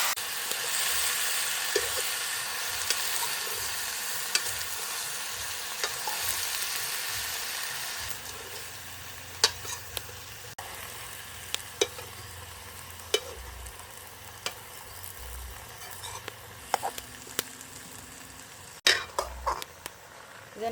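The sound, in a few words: garden tomatoes being sautéed for thokku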